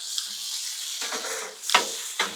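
Steak meat for cheesesteak melts sizzling and frying on a Blackstone griddle, a steady hiss broken by a few scraping spatula clacks, close and alone.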